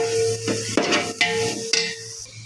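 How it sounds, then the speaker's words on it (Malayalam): Tomatoes stirred into sizzling masala in a pan, a steady close frying hiss broken by several scraping stir strokes against the metal, with no voices. "തക്കാളി ചേർത്ത് ഇളക്കി കൊടുക്കാം"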